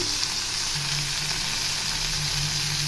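Onions sizzle in hot oil as tomatoes are added for brinjal and drumstick sambar, a dense continuous frying hiss, close and even, with no talking.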